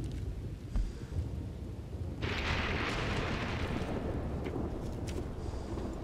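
Thunder rolls in the Red Dead Online video game, a low rumble that swells into a loud, sustained broadband crash partway through and keeps roaring, with no talking.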